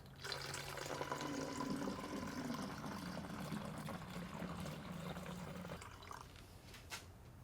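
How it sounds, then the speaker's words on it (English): Hot tap water runs steadily into a cleaner container, a continuous close gushing fill that eases and shifts in tone near the end, with no talking. "And then you're supposed to fill it up with hot water."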